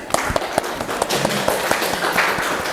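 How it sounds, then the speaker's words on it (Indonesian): Students clap in a classroom after a group presentation in a history lesson, with separate hand claps coming in a loose, uneven rhythm over a low room murmur. "Beri tepuk tangan."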